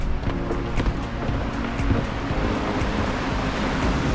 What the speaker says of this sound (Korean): 파도에 밀려왔다 차르르 굴러가는 조약돌 소리가 듣기 좋습니다.